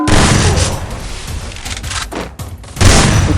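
Dense bursts of gunfire and booming shots from a mobile shooting game fill the whole stretch, loud and continuous, with a brief dip before a heavy final volley.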